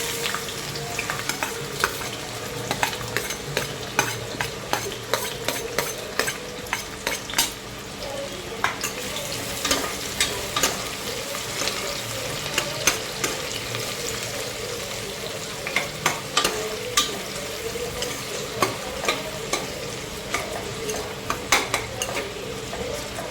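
Curry leaves and onions sizzle steadily in very hot oil in a pan, a continuous close crackle with frequent utensil taps and stirring scrapes throughout and no talking.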